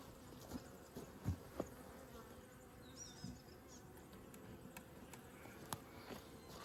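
Honey bees hum faintly inside an open hive frame of nectar and pollen stores, a quiet low buzz with a few individual bees passing close by, no talk.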